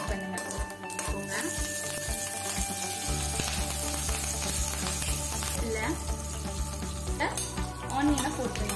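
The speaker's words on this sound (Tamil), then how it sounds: "இப்போ எடுத்து வச்ச உளுந்து அப்புறம் கடலை பருப்பு நல்லா பொரியிற வரைக்கும் கொஞ்சம் வெயிட் பண்ணுங்க." Urad dal and chana dal fry with popped mustard seeds in hot oil for an aloo sabzi, a steady close sizzle broken by scraping and clinking of a spoon against the pan.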